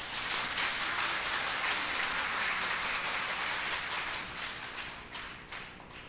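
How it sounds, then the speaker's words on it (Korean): A church congregation claps together in dense, sustained applause to welcome a pastor to the pulpit at a worship service, and the clapping slowly thins and fades toward the end. "목사님 나오실 때 환영합니다. 존경합니다. 박수로 맞이하겠습니다"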